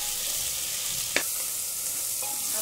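Onions, ginger, garlic and green chilies frying in a pan over a medium flame for a potato and black chickpea curry, giving a steady, soft sizzle with one brief stir or clink near the middle.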